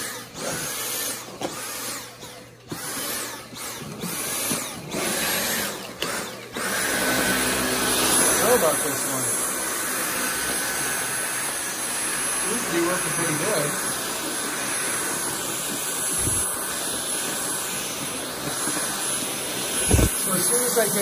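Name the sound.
Dyson vacuum cleaner running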